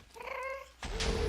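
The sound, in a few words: ghast shooting in Minecraft, from a video game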